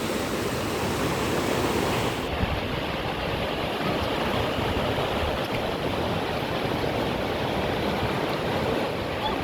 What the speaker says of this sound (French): Petite cascade au milieu de la forêt